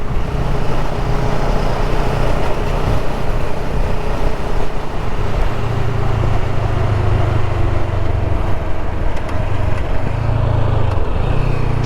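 A CFMOTO CLX 700 motorcycle engine braking on a highway: a steady low engine drone with wind rush, the pitch wavering slightly as the bike slows, loud and close throughout.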